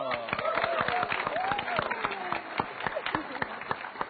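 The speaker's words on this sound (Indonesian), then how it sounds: "kita sudah ada Tom Cok dan juga Vian, tepuk tangan dulu dong." A crowd claps in sharp, irregular bursts while people keep talking over the applause.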